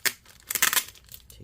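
A part being peeled out of a Lenovo ThinkPad P51 laptop during disassembly, giving a short close crinkling tear that comes in a couple of quick bursts.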